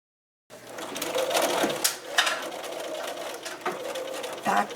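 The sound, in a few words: sewing machine stitching a fabric lanyard keychain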